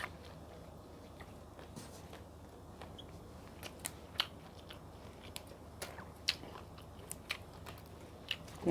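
Crunchy chewing on an Isan-style raw beef and liver salad, soft intermittent crisp bites and mouth sounds close to the mic over a low background hum, with no talking.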